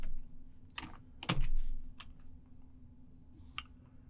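Computer keyboard keys pressed in a few scattered, sharp clicks while a command is entered, close and fairly quiet over a faint steady hum, with no talking.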